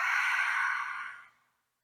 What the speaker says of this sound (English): big open mouth exhale, let it all go